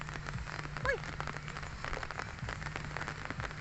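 Rain falls steadily at a cemetery, a faint, even patter against outdoor surfaces, with a brief muffled voice in the background.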